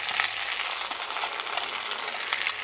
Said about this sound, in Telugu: క్యాబేజీ కూడా వేసేద్దాం.